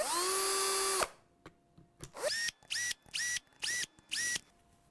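A power drill whirs in repeated short bursts, marking tuner hole positions on a guitar kit headstock: one long run, then five quick, evenly spaced pulses close by.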